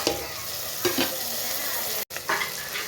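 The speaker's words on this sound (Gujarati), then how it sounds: "હવે આપણે એમાં કટ કરેલ ટમાટર નાખશું." Chopped tomatoes go into a pan of frying cauliflower curry, bringing a burst of sizzling and a few stirring scrapes, close and loud, with a brief cut near the end.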